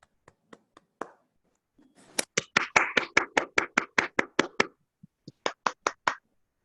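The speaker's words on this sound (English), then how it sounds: "Let's just applaud for them" Sparse clapping for debate contestants comes from a small group: a few scattered claps, then a short burst of roughly a dozen even, close claps, a pause, and a final handful of claps.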